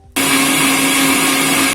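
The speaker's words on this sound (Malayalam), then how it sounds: "ഇനി നമുക്ക് 2 മിനിറ്റ് മിക്സിയിൽ നന്നായിട്ടൊന്ന് അടിച്ചെടുക്കണം." A mixer grinder blends lemon juice with ice and cold water, a loud, steady whirring roar that starts abruptly and cuts off sharply after about a second and a half.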